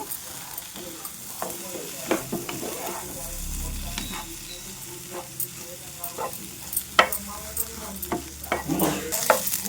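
Brinjal pieces coated in masala fry and sizzle in a pan while a spoon stirs them, producing irregular scraping clicks and bursts of crackle over a steady low sizzle.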